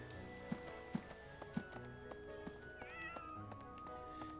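A cat in Fire Emblem: Three Houses meows softly over game music, with a few close footstep thumps and a rising chirpy call near the middle.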